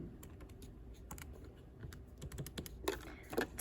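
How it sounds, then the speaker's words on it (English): Quick, light key presses on a calculator keypad, close and faint, in an irregular run of clicks with a couple of louder taps near the end. "I'll go ahead and type this one out in the calculator."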